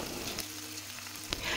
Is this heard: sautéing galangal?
yes